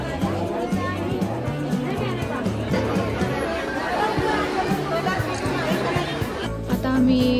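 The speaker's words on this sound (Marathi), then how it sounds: "बापरे भयंकर गर्दी आज" Dense crowd chatter fills a busy wedding-shopping market, with many overlapping voices forming a continuous close babble and a few nearby speakers standing out.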